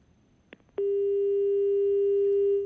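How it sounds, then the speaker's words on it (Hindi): A phone line gives a couple of soft clicks, then a steady, loud, unbroken electronic tone sounds alone, as on a failed call connection. "प्रशांत से हमारा संपर्क नहीं हो पा रहा है"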